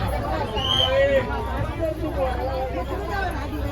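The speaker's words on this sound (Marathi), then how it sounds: "अजून उतरली पण ते पब्लिक एवढी गर्दी आले." Big crowd of people gathered at a bus stop for a trip to Mhasa, a steady murmur of overlapping voices with a few louder calls close by.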